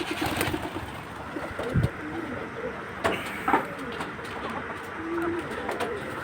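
Pigeons coo softly at middling distance, a few low murmuring calls scattered over a steady background hum with occasional faint thumps and rustles, kept in a loft or coop.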